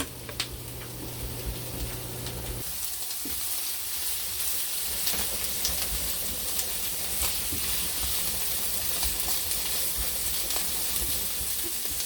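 Onions and mushrooms cooking in a pan give a steady, broad hiss and crackle for the full length, with small pops scattered throughout and a low hum that drops away early on.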